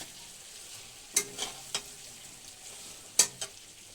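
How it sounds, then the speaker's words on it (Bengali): Meat nearly done being sautéed in a pan hisses quietly and steadily, with a few crisp scrapes and knocks of a spatula stirring it, all close and fairly faint. "দেখো মাংসটা প্রায় কষানো হয়ে গেছে।"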